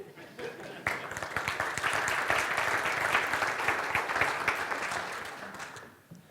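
Keynote audience at the SuperOffice Expander World 2015 conference bursts into dense, sustained clapping that swells quickly and holds steady before tapering off at the end, a broad wash of many hands in a large hall.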